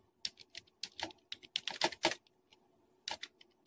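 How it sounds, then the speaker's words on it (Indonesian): Rapid, close clicks of computer keys being pressed while working in Microsoft Word come in quick bursts with short pauses, crisp and distinct, with no talk over them. "Kita tekan enter"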